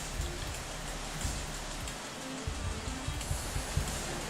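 Steady rain hiss in an Unreal Engine 5 sci-fi horror game level set in a research facility, a continuous close wash of drops pattering on surfaces with no voices.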